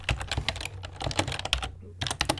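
Rapid clacking keystrokes on a computer keyboard, close and crisp, come in quick bursts with a brief pause before typing resumes.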